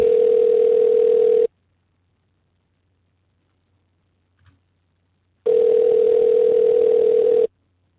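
Two long, steady telephone ringback tones separated by a gap of silence, loud and clean, as an unanswered call keeps ringing.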